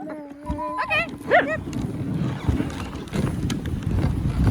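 Sled dogs in freezing winter cold yelp and whine eagerly at the start, then give way to the brisk rhythmic patter of a team running, with wind noise brushing the microphone.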